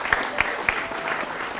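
Brief applause from a cadet audience at a polytechnic campus event in Palembang, a few sharp claps at the start settling into a short, moderate patter.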